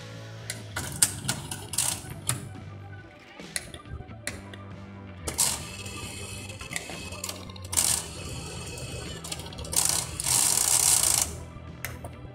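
A Sony TC-WR645S dual stereo cassette deck being powered on and run, giving a string of mechanical clicks, clunks and whirring motor bursts with short pauses between, close up and fairly quiet.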